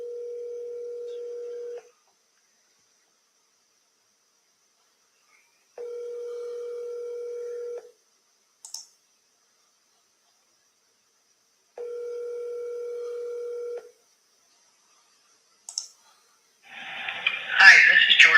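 A phone rings out while calling back a home seller: three steady ringback tones, each about two seconds with long gaps, with short clicks between them and a burst of voicemail-greeting sound at the end.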